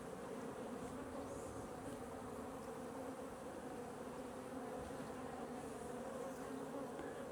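Honey bees swarm around an open hive, a dense, continuous buzzing hum that stays even and fairly quiet throughout, with no speech.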